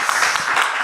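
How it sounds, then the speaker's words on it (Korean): An audience applauding to thank a lecturer at a church seminar, with dense, steady clapping briefly heard throughout. "여러분 다시 한번 큰 감사의 박수 한번 보내주시면 좋겠습니다"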